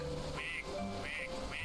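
Plastic rubber duck quacking in the Placid Plastic Duck Simulator video game, three short nasal quacks evenly spaced over a steady background hum, clear and close.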